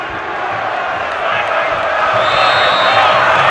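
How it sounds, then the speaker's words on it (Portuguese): Home supporters of São Paulo FC roar in a packed stadium during a 2008 Copa Libertadores quarter-final against Fluminense, a broad steady crowd wash swelling slightly louder toward the end, with a faint whistle-like tone rising above it. "A torcida do São Paulo cresce"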